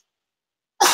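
A single sharp human sneeze bursts out near the end after silence, close and loud.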